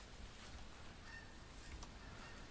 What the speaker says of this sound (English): I'm hearing geese. Hearing geese.